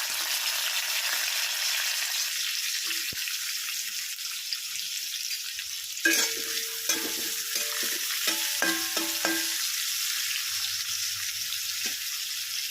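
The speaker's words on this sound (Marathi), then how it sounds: "आता आपण त्यामध्ये कांदा टाकून घेणार आहोत छान असा परतून घेणार आहोत" Chopped onion sizzles steadily in hot oil with cumin in a pan for methi aloo bhaji, with a spoon stirring and clinking against the pan through the middle, all close and even, with no talking.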